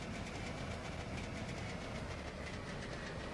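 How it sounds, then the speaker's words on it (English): Trabant car engine running in the video game The Long Drive, a rough, steady, noisy drone with a faint rhythmic chatter, continuous and close with no talking. "Engine sounds horrible."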